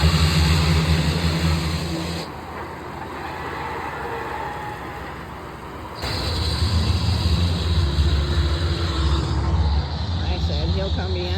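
Loud drag racing engine roaring at Carolina Dragway, a sustained heavy rumble that drops slightly and then surges back up louder, heard under excited nearby talk.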